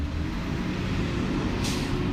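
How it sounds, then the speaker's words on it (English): Garbage truck on a collection round somewhere nearby, a low continuous engine rumble with a short sharp hiss of air brakes releasing partway through. "They're collecting garbage. Garbage truck somewhere."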